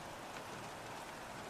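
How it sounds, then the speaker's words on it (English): Heavy rain in an F1 racing video game makes a steady, dense hiss of falling water, continuous and even throughout, with no voices. "Rain's heavy."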